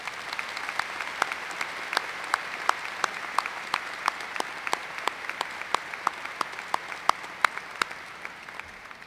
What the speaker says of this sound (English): Please join me in a round of applause for this inspirational woman.